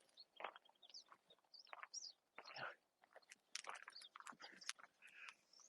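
Several wild birds in Yoho National Park chirp and trill in quick, bright bursts, with overlapping calls of varied pitch close by and no voices.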